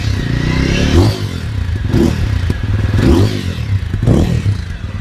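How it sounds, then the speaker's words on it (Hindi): A 2025 TVS Apache RTR 200 4V motorcycle revs hard several times in a row, each throttle blip surging then dropping back to a rumbling, popping idle, close up and loud. "एक बार मैं आपको मोटरसाइकिल के एग्जॉस्ट नोट भी सुना देता हूँ।"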